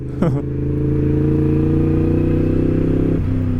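A Yamaha MT-10 Stage 1 motorcycle engine, 183 hp, fires up and holds a loud, steady throaty idle-rev close by, with a brief dip near the end.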